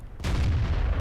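A tank cannon fires in World of Tanks, one sudden loud boom that rolls on in a heavy low rumble.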